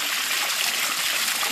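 Water from a 3,000 to 4,000 gallon per hour pump rushes and splashes steadily in a fish-farming aquatic project, a loud continuous wash with no pauses.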